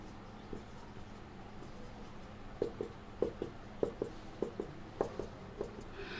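Marker or chalk strokes writing numbers on a board during a chemistry lecture, a series of light, irregular taps and scrapes over a quiet room hum, with no voices.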